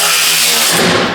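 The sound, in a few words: spin jack raising a Tacoma skid plate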